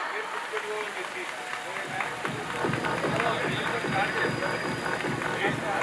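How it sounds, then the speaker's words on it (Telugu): Audience clapping swells into steady applause, the dense patter of many hands filling the space and growing louder partway through. "అందరూ క్లాప్స్ కొట్టవలసిందిగా కోరుకుంటున్నాం"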